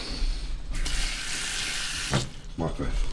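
Water poured or run from a tap into a bowl of broccoli, a short broadband rush lasting about a second and a half, then clattering handling noises after it stops.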